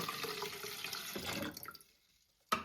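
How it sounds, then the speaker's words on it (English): Water is poured from a jug into the tank of a Nespresso Vertuo Up coffee machine, a soft close pouring and trickling that tapers off, then a brief sharp clunk at the end. "let's pour our 500 millilitres of water in"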